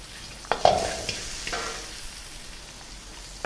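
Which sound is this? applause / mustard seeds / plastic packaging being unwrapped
mustard seeds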